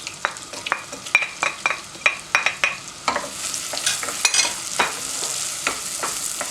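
Chopped onion sizzling in melted butter in a pot for Ezo Gelin soup, with a steady frying hiss under repeated close stirring scrapes and clinks of a spoon against the pan, no voices.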